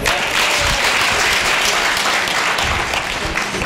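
An audience at a poetry recital gathering breaks into dense, continuous applause, many hands clapping loudly and evenly throughout, with faint voices underneath.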